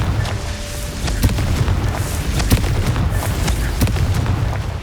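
A Confringo explosion spell in the Hogwarts Legacy game erupts as a loud, booming blast, followed by sustained rumbling and sharp crackling impacts that run continuously near and heavy throughout.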